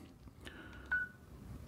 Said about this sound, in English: So we're going to dial